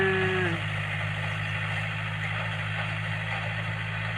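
Tractor engine running steadily in a rice field at dusk, a low, even idling drone heard alone at moderate distance, with a brief higher whine fading in the first half second.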